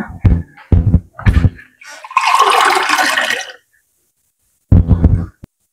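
Water pours into a cooking pot in a home kitchen, a loud, splashy stream lasting under two seconds between short bursts of knocking and handling noise.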